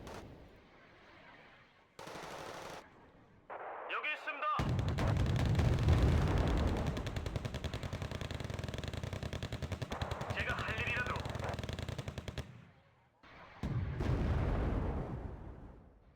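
Tank guns fire in a video game as heavy booming blasts and sustained rumbling gunfire. Quieter stretches fall between the bursts, and a voice talks over parts of it.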